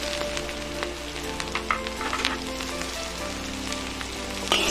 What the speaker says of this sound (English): Stir fry for 1 to 2 minutes until fragrant.